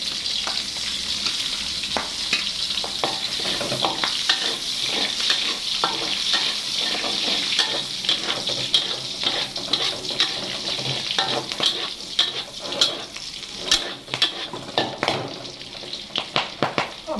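Steady crackling sizzle of garlic frying in a hot pan, with occasional clicks and scrapes of stirring throughout, no voices.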